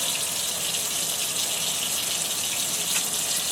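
Water runs from a bathroom tap for face washing, a steady, close hiss and gush that continues without pause.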